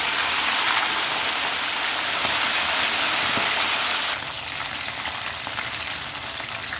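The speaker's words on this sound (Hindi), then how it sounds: "इस तरह फ्राई करूँगी और दूसरे पीस को भी फ्राई करूँगी।" Chicken leg pieces fry in hot oil in a pan, giving a loud, steady sizzle and crackle throughout that eases slightly toward the end, with no talking.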